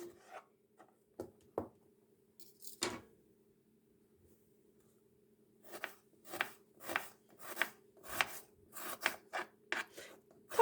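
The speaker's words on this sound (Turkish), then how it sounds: "Şimdi hemen soğanlarımı da yarım ay şeklinde doğrayacağım." A knife slicing dry onions into half-moons on a cutting board: a few scattered cuts, a pause, then a steady run of crisp rhythmic chops, close and quiet.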